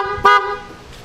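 Aftermarket horn fitted to a Suzuki GSX-S1000GT touring motorcycle, one short, loud, bright honk heard close up and alone, with a faint tail afterward.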